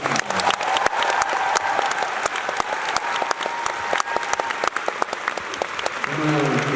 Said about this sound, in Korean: 12명 싱어들에게 박수를 먼저 한번 드립니다.